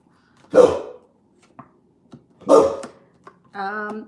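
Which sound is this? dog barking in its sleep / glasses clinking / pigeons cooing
dog barking in its sleep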